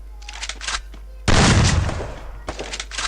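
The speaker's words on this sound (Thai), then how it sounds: "ลูกซองเราไม่ได้ยิงไกลขนาดนั้น" Shotgun fired in an online video game, one loud blast with a rough decaying tail in the middle, set between quieter in-game clatter and action noises.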